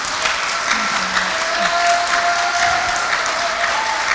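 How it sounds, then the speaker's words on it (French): Sustained audience applause at an academic closing ceremony and graduating-class evening, a dense steady wash of many hands clapping throughout, even in loudness with no clear talk over it. "je vous demande de les remercier par un applaudissement et les encourager."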